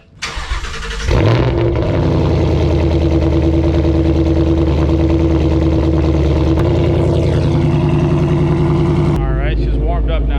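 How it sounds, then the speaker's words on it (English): A cold start of a Whipple-supercharged Ford Mustang GT V8, cranking briefly before catching into a loud, steady, lumpy idle close by, with a slight dip in pitch partway through and a voice speaking over the engine near the end. "So I'll go ahead and give you guys a little bit of a cold start here."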